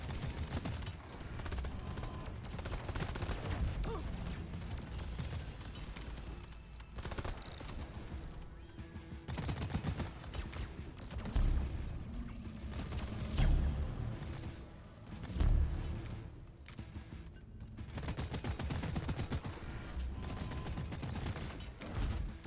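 GK2 rifle and Zhukov guns fire during a Deep Rock Galactic fight against a boss's vents, eyes and patrol bots, a loud dense stream of rapid shots with brief pauses between bursts.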